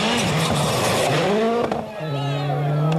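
Ford rally car at WRC Rally Finland 2000 roars past close by, engine pitch climbing then dropping sharply as it goes by, then a lower steady note, with a voice talking over it.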